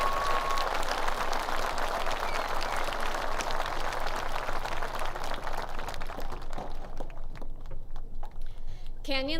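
A large audience at a high school graduation ceremony claps steadily, a dense wash of applause that thins out and fades toward the end.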